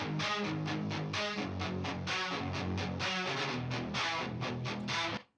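Guitar run through RC20, reverb, soothe and a compressor, then bounced to audio, plays a dense, steady riff of rapid plucked notes at full loudness for about five seconds before stopping abruptly.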